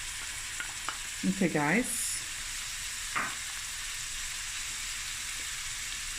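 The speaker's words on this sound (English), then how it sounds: "gonna add 2 medium onions to some oil. My pan is on medium to high heat." Two medium onions fry in oil in a pan over medium-high heat, giving a steady close sizzle while a utensil stirs them, with a short spoken phrase partway through.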